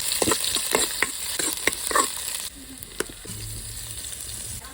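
Mustard seeds and onion fry in a hot pan, loud sizzling with scattered pops and stirring scrapes that ease off into a quieter, steady sizzle.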